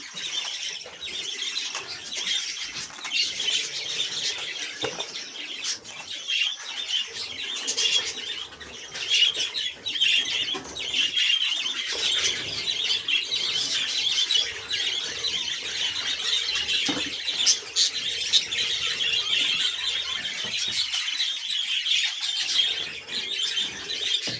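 Cockatiels and other caged birds chirp and squeal continuously, with occasional bursts of wing flapping, a busy aviary chorus at moderate distance without voices.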